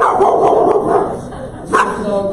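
A service dog barks a few times at an indoor graduation ceremony for veterans' service dogs, with crowd noise and talk around it.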